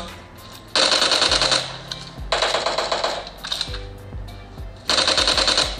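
Loud bursts of automatic gunfire from a shooting video game played on an oversized phone, several rapid rattling volleys separated by short pauses.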